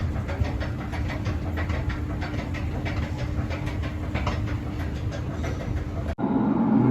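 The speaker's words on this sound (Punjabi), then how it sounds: "ਮੈਟਰੋ ਆਉਂਦੀ ਵੀ ਛਾਲਾ ਮਾਰਦੀ ਆਵਾਜ਼ ਦੇਖੋ ਕਿੰਨੀ ਹੈ ਆਵਾਜ਼ ਬਹੁਤ ਕਰਦੀ ਹੈ ਮੈਟਰੋ" A metro train in Portugal rumbles past close by with a steady, rhythmic clatter of wheels over rail joints, loud and continuous, then cuts off abruptly near the end.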